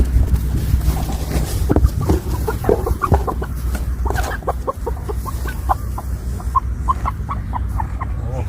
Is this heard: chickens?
yes